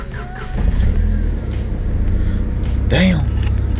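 A Honda Civic's engine cranks and catches, rising from a low churning rumble into a running idle with a brief rev near the end, close by, while a person talks over it.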